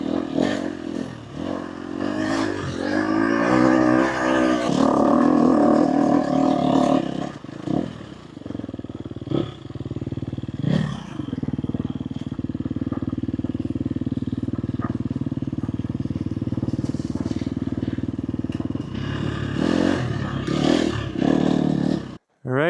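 A dirt bike with a fresh new tire rides over rough rocks in an Arizona desert wash. The engine drones loudly and steadily, with clattering and scraping from the rocky ground and brief revs, and no talk.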